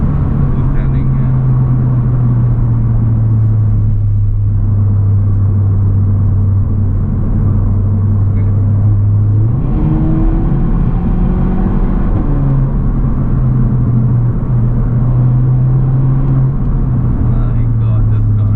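Skoda Octavia RS245 engine pulling hard, a loud, steady low drone heard from inside the car. Midway it briefly changes pitch as a gear shifts, then settles back into a sustained, powerful hum.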